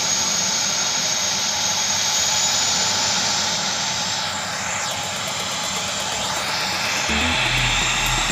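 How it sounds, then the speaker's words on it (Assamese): An aircraft engine near Duliajan roars loudly and steadily at close range with a high whining edge, building as the plane prepares to take off. "এতিয়া প্লেনখন কেনেকৈ উৰিব চাব।"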